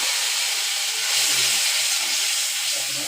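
Spice mix poured into hot oil already tempered with panch phoron, bursting into a loud, dense hissing sizzle that swells briefly and holds steady, close by with no voices.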